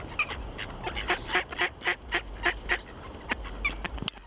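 A mallard duck quacks in a rapid rhythmic series of about a dozen close, loud calls, with a couple of sharper calls near the end.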